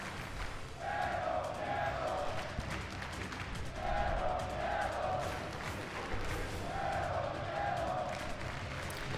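A Lucha Underground wrestling crowd cheers for a luchador, with rhythmic chant-like surges repeating every couple of seconds under a commentator's voice.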